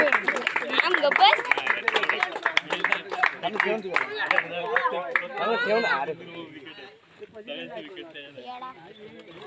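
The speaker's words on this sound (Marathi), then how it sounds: "जोरदार टाळ्या वाजवायच्या धनुसाठी." A crowd at a village cricket felicitation applauds batsman Dhananjay Kumar, with dense, rapid clapping and mixed voices that fade out after several seconds, while someone speaks over it on a microphone.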